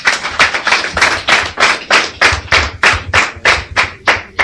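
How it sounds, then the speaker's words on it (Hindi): An audience claps in unison at a seminar-style event, a loud, tight, regular beat of about a dozen sharp claps with no talking. "ताली बजाने इनके लिए।"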